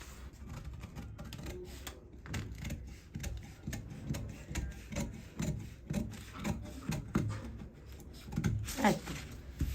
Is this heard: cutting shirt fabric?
yes